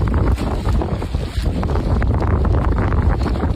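Strong wind roars steadily outdoors, a loud continuous rush with buffeting gusts against the microphone and no talk.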